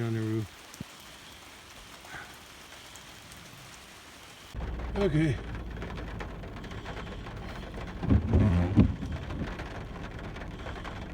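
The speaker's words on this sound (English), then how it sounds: "I can hear the rain on the roof." Rain patters steadily on a truck roof, close and dense, with thunder rumbling low in the background and someone briefly speaking.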